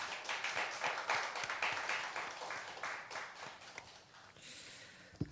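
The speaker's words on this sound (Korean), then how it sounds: "영채도 아주 잘 이겨내고 오늘 드럼까지 쳤는데 박수로 환영합니다" A church congregation at a Friday late-night prayer meeting claps to welcome back a young member who played drums after recovering from isolation; moderately loud, dense applause runs for about four seconds, then fades to a softer patter.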